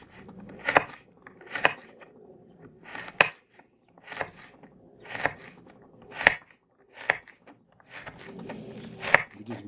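A peeled Hokkaido pumpkin is cut into small cubes on a board, giving about ten crisp, close knife chops at a slow, fairly even pace with quiet gaps between them.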